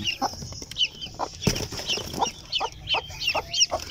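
Newly hatched Silkie chicks, three white and three brown, peep in quick, repeated high chirps near their hen, with a few soft clucks and a brief rustle among them.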